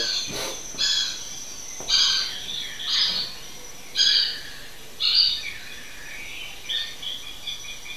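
Owl calls played during a talk on Ecuador birds, a series of short raspy screeches repeated at uneven intervals of about a second, moderately loud against a quiet background.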